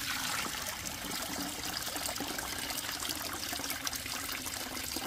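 Water trickles steadily from a spring pipe into a bucket during rainy-season pipeline damage in a hill village, a continuous close splashing hiss with no talk.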